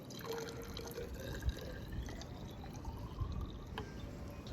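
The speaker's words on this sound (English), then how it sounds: "I'm gonna pour out for ourselves another 45 ml of acetone" Acetone pours into a container during a home chemistry setup for a haloform reaction; a faint, steady liquid trickle with soft drips runs throughout, quiet and close.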